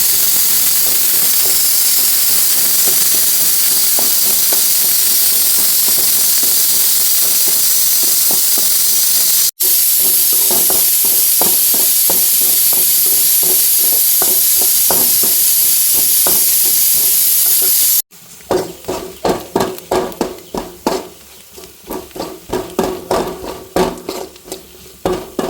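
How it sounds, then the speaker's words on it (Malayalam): Shallots sauté in hot oil with chili, coriander, cumin and black pepper powders for a chickpea curry, giving a steady loud hiss and sizzle with repeated stirring scrapes that turn to choppier, pulsing sizzles near the end. "ഇനി ഇതിൻ്റെ പച്ചമണം കൂടി മാറുന്നത് വരെ വഴറ്റുക."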